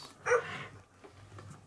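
Hasbro Joy for All robotic companion dog giving a short electronic bark close by, followed by quieter yips and whimpers in a small indoor room.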